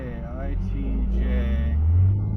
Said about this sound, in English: A Dodge Charger trying to do a burnout ahead of me.